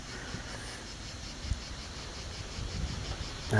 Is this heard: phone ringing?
no